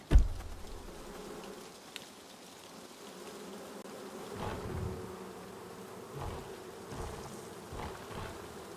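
A steady insect-like buzzing of bees in the video game Gord hums throughout, with occasional louder swells, like a swarm droning nearby.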